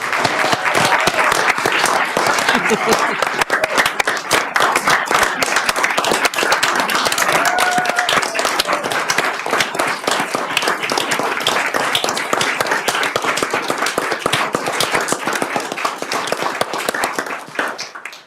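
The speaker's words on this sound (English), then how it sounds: "why don't you join me in a round of applause for Bryant Powell" Sustained applause from the audience at a city council meeting, loud and dense throughout, with a faint voice or two under the clapping before it tapers at the end.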